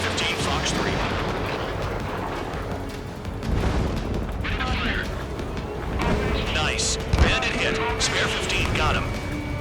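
A Fox 3 missile launches from a fighter jet in Ace Combat 7 with a loud rushing roar over continuous engine and combat rumble, and radio chatter talks over it.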